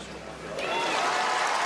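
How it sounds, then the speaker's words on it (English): Arena crowd at the World Artistic Gymnastics Championships in Liverpool, with American fans cheering for their team; a broad wash of cheering and applause swells after a moment and holds loud and steady. "There are Americans, in Liverpool cheering for their team."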